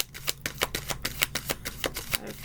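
Playing cards being shuffled by hand, a fast regular riffle of crisp snapping flicks about a dozen times in a row, close and clear with no talking.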